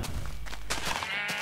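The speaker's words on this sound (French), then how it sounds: "On a des moutons, tiens par là" Sheep bleating in a survival strategy video game, a few short bleats over a busy mix of other game sounds lasting just over a second.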